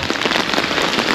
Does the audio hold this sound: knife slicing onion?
no